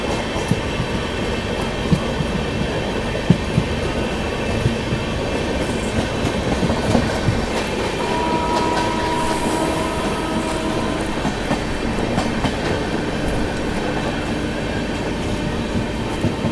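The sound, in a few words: Humsafar Express train running at speed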